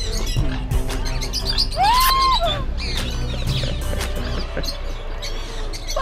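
Parrots in an outdoor Caribbean bird park at St Maarten call with shrill squawks and rising whistles over a steady low hum, busy and close throughout.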